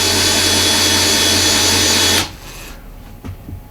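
A large Craftsman power drill runs loud and steady for about two seconds, then cuts off abruptly, leaving a quiet room with a few faint knocks.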